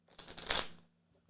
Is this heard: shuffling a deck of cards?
yes